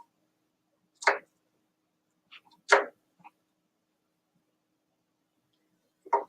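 A knife cuts strawberries in half on a board, giving a few sparse, soft, short cuts and taps separated by quiet gaps.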